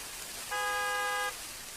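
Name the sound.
car horn honking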